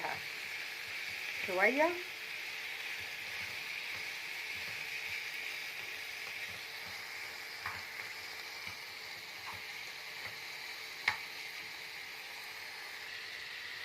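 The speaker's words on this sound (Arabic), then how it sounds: "كده هنزل عليها برشه فلفل اسود وهشوح فيها" Liver and gizzards sautéing in a pan with black pepper, a steady close sizzle and frying hiss throughout, with faint stirring clicks and a brief spoken word at the start.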